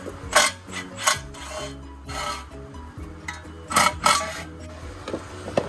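Ratchet loosening bolts under a 2007 Mercedes-Benz E550 4Matic, a few bursts of quick clicking and rasping metal strokes, close, with quiet gaps between.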